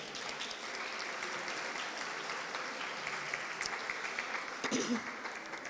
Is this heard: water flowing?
no